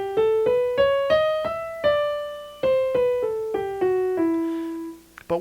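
E melodic minor scale on a piano-like instrument, climbing with raised sixth and seventh, then coming back down as natural minor: a steady run of distinct notes rising and falling, the final note held and fading, then a small knock.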